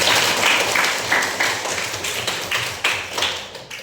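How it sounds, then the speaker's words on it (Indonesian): A high school classroom at SMA 6 Kepahiang, Indonesia, claps together in rhythmic bursts, close and fairly loud, tapering off over a few seconds. "Berikan tepuk tangan."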